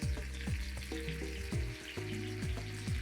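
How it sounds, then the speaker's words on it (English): Rolled steak sizzles and crackles steadily in a hot frying pan, with occasional low thumps and clinks from the cookware. "Oh, you hear that? That's what you want. You want that sizzle."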